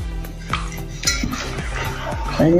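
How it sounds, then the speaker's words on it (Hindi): A utensil scrapes and taps against the inside of a metal cooking pot while oil is spread around it for thalipeeth, a series of close, clinking strokes and scrapes at an even pace. "मैंने अच्छे से इसमें तेल डाला है, और इसको अभी हम अच्छे से फैला देंगे।"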